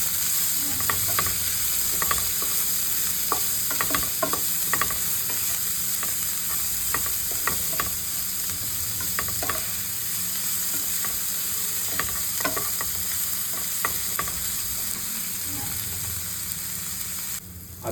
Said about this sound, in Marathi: आनी तितून जो आमी चिरलेलो कांदो आसलो तो कांदो घालया. आनी मातसो बरो भाजून घेवया.